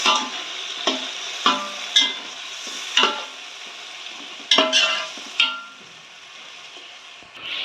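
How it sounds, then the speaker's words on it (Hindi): Chicken pieces and three tomatoes frying in a pot for chicken pulao, with a spoon scraping and stirring in repeated sharp strokes over a steady sizzle, close and fairly loud, with no talk. "3 अदद टमाटर ऐड कर दें और साथ ही चिकन भी ऐड कर दें। मिक्स कर दें।"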